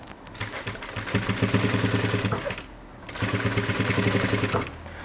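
A sewing machine stitching bias binding around a rounded edge, two bursts of rapid, even mechanical whirring and needle clatter separated by a short pause, close and loud with no talk.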